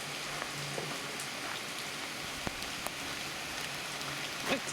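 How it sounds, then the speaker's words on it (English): Heavy rain falls outdoors on a farm near a barn, a steady dense hiss with scattered sharper drop hits and no voices. "It's pouring out here."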